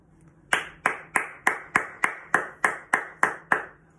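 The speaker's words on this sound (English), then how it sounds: "we're going to give you a big clap" Children in a Year R school class clapping in unison: eleven crisp, evenly spaced claps in a quick steady rhythm, loud and close, with no talking.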